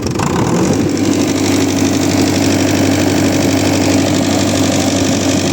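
A David Brown 996 tractor engine idles loudly and steadily up close, a constant low rumble with a rhythmic chugging throb.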